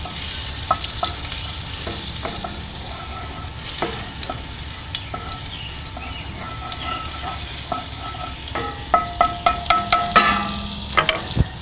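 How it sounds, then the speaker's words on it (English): Butter and olive oil sizzle steadily in a pan on a Kamado Joe grill, a close hissing crackle broken by scattered pops and sharper spatters toward the end. "We're going to get that butter melted down, and I'm going to add a little olive oil as well."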